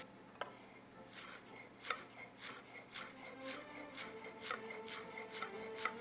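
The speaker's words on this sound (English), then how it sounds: "You need a sharp knife if you're going to make beautiful chopped chives." Sharp knife chopping chives on a board for garlic mashed potatoes, a steady run of quick, close, crisp cuts repeating about twice a second with no talking.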